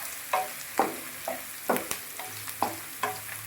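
Green chillies and onion frying in a pan while being stirred, soft sizzling under a run of regular scraping strokes of a spatula, close and moderately loud.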